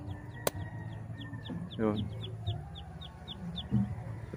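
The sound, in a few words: chickens clucking, hens and rooster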